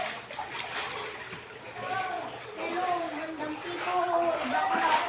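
Water splashes and sloshes as it flows into a house, a continuous churning wash while voices talk over it nearby.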